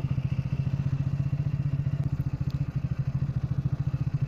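A motorcycle engine brakes while descending a steep mountain road between Darjeeling and Siliguri via Mirik, a loud, close, low throbbing pulse that beats in a fast, even rhythm with wind noise above it.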